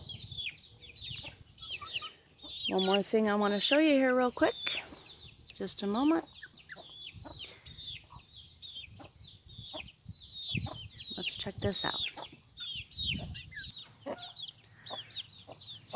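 Free-range backyard chickens cluck in short, scattered bursts around a farmyard shared with turkeys, with a brief crow-like call early on; someone talks over them close by.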